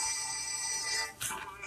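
A phone ringtone plays a bright, steady electronic melody close by, briefly interrupted by a rustle near the end.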